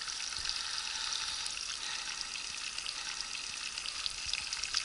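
Food fries in hot oil in a pan, giving a steady, close crackling sizzle that continues evenly throughout without any voices.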